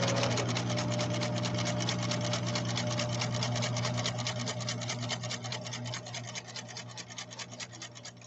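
A Husqvarna Viking sewing machine runs a basic straight stitch, a steady, fairly loud mechanical whir with rapid regular needle clatter that holds constant for the whole stretch, with no talking.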